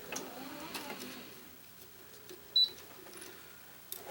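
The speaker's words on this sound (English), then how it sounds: "I'm going to pull tension on the second cross" A racket stringing machine tensions a cross string, giving faint mechanical clicks and a soft creak in a quiet room, with one sharper click midway.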